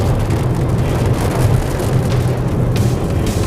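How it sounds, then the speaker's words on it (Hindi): Heavy rain roars in a thick, continuous wash with a deep rumbling undertone, steady and loud from start to finish. "बारिश बहुत तेज़ हो रही है।"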